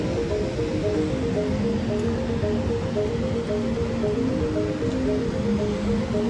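Sea waves roll in at Kuta Beach, Bali, at low tide, a steady continuous wash of surf with a constant low rumble and no distinct individual breaks.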